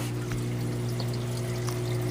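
Water drips and trickles through drilled holes in a reef aquarium sump, under a steady humming pump drone, with faint scattered drip ticks and no speech.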